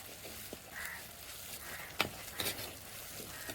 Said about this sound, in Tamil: இதிலே சின்ன வெங்காயம் உரிச்சு போட்டு இந்த எண்ணெயிலே நல்லா வதக்கலாம்